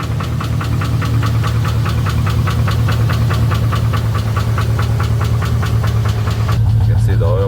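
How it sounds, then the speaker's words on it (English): A running Chevy Silverado V8 with a lifter tick, carrying a fast, steady metallic ticking over a loud, continuous engine drone close to the engine. "It's got a lifter tick right now, so that's what we're trying to fix"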